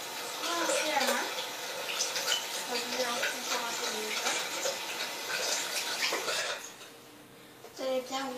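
Tap water runs and splashes as a hand is rinsed after a scrub in a bathroom sink, with someone talking over the flow before it stops near the end.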